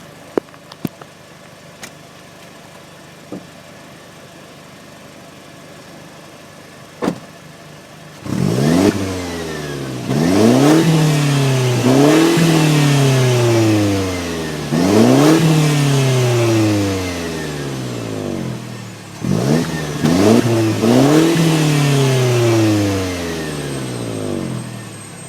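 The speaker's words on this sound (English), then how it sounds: "so that was the exhaust" A 2012 Mercedes C250 coupe's exhaust, heard close and loud: after a few seconds of near quiet and faint clicks, the engine revs up and falls back in repeated strong blips, with several quick double revs.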